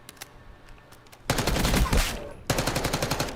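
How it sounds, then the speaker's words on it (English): SMG gunfire in a video game, fired in two rapid sustained bursts, loud and close, after a few faint isolated taps. "This is the Scorpion Evo of this game, because why is this a fucking laser? It's an SMG."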